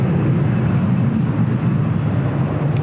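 A jet airliner roars loudly and steadily at Los Angeles International Airport, a dense low rumbling engine drone that fills the whole moment without breaks.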